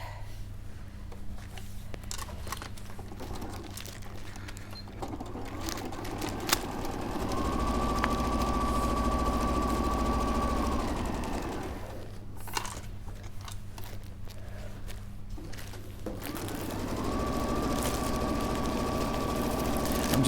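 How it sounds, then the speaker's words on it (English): A sewing machine stitches fabric seams with a steady mechanical hum that quickens into faster runs, pauses briefly, then resumes, all moderately faint and close. "And then you're going to sew down one short side and one long side."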